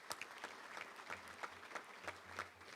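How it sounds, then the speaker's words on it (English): A luncheon crowd at a touchdown club gives a round of applause for a player's parents, a faint, distant patter of many hands that stays steady for a few seconds. "Let's give them a round of applause for being here today."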